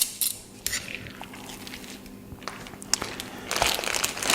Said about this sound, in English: So I'm going to put the pork inside.